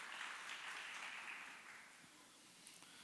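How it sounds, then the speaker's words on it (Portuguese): A seminar audience on ESG and design gives a round of applause, fairly quiet and distant, clapping dense at first then thinning and fading toward the end. "uma salva de palmas para vocês"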